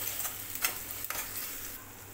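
Green chili paste sizzles as it is sautéed and stirred in a pan for street-style anda ghotala, with a few quick scraping strokes over a continuous fry.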